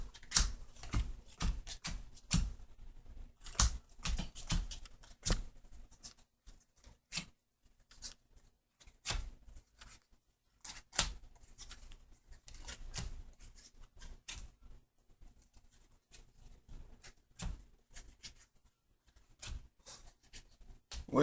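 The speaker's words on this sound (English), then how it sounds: "So first you want to do the regular pile shuffle" Magic: The Gathering cards being pile shuffled by hand, a long run of soft, irregular card taps and slaps as each card is dealt onto piles, close and quiet, with brief pauses between bursts.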